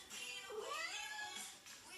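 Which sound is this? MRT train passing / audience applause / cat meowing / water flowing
cat meowing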